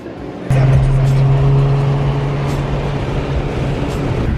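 Loud car traffic roaring past on a Los Angeles street, a steady engine drone rising suddenly and holding with a low hum throughout, heard from close by.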